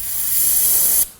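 A single sharp spray of brake parts cleaner hisses loudly and steadily for about a second, then cuts off abruptly, during inner tie rod replacement on a 2016-2020 Kia Sorento.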